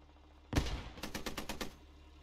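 Distant automatic gunfire in the Squad military shooter, a sharp opening crack followed by a rapid string of about seven or eight evenly spaced shots, moderately faint with no talking.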